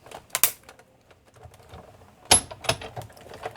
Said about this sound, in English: I'm going to bring back in my Big Shot machine, which we had right in the corner there